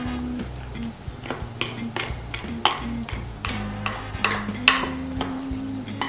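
Chunks of brioche being stirred and mixed in a bowl for bread pudding, a quiet series of soft irregular scraping and squelching strokes close up, with a low hum behind.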